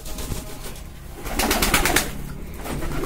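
Pigeons on a pigeon farm coo softly nearby as they gather to eat, with a few soft wing flutters and fuller bursts of cooing midway.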